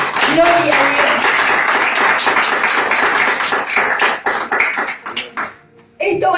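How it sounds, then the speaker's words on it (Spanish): A church congregation claps in a dense, continuous burst of applause for several seconds, thinning into a few scattered claps before fading to near silence, with voices mixed in. "Dale un fuerte aplauso al Señor"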